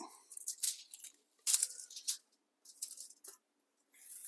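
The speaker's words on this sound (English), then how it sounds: "So I'm just going to put a piece of tape across it" A strip of tape is torn off in several short, crisp ripping bursts with brief pauses between them, close by and fairly quiet, with no voices.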